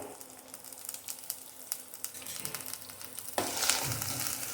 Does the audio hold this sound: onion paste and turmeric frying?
yes